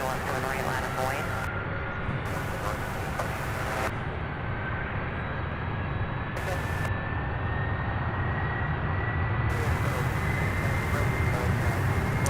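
A 21-year-old UPS Airbus A300 at Louisville International Airport, bound for Burbank, produces a loud, steady jet roar with a slowly rising whine that holds for the whole stretch, with voices talking over it.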